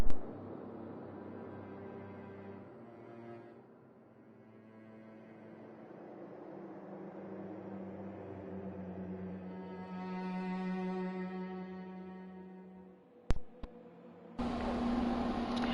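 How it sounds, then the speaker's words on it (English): An air conditioner hums steadily in the background of a room, a low continuous drone with faint tonal bands, broken near the end by a couple of brief sharp knocks and a louder broadband shift. "I have to have the AC on, so that is the noise you're hearing in the background."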